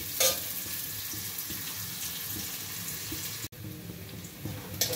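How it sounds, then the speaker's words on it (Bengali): Onions frying in a pan, a continuous broadband sizzle held steady at moderate level, with a brief stir or clatter and a short gap near the end, no talking. "পেঁয়াজটা এবার ভেজে নেবো ভালো করে"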